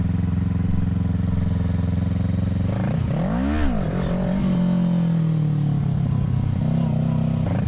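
Stock 2020 Kawasaki Ninja 650 revving hard for a clutch-up wheelie, a loud steady engine drone that climbs sharply in a rising-and-falling rev sweep mid-clip, then settles back to a strong idle-like hum.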